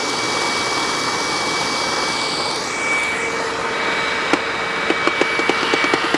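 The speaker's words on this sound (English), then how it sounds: "Well, obviously the brush roll is spinning." A Hoover Windtunnel self-propelled upright vacuum cleaner, purple, runs with its brush roll spinning, giving a steady broadband whir with a high whine, joined near the end by a few sharp clicks or taps.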